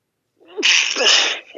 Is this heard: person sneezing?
yes